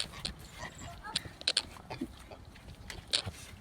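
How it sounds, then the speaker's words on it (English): Adult pigs on a permaculture farm, scattered short grunts and snorts with sharp squeals and scuffling, close by, with a person's voice mixed in. "Making some introductions here with Dottie and the adult pigs"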